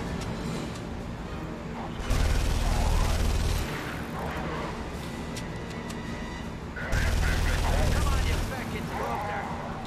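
Gunfire in The Saboteur video game, dense crackling shots and two heavy booming bursts over constant battle noise, with someone talking over it.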